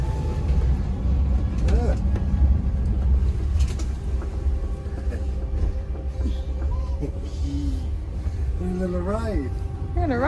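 A small self-driving car runs steadily along with a low engine rumble and road noise on a taxi ride. People talk over the ride throughout, and a baby babbles.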